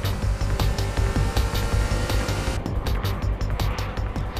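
A 1996 Honda Type R car accelerating hard during a performance test, its engine droning loud and steady with a low rumbling pulse throughout, road and wind noise layered on top.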